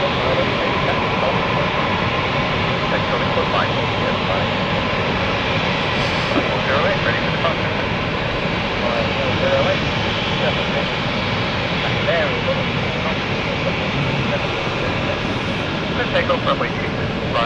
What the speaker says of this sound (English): Here we have the Bergerac flight here, heading out now to London from London City.